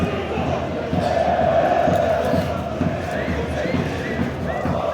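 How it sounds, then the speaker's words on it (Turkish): Football fans of Kastamonuspor chant and roar in the stadium during the second half of the match against Buğsaşspor, a dense, steady crowd din with a commentator speaking over it. "Maç başlamasından bu yana seyircimiz hiç susmadı."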